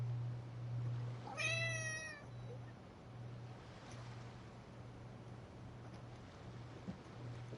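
A cat in the video game Genshin Impact gives a single drawn-out meow near the start, clear and close, over a low steady hum and faint ambient noise.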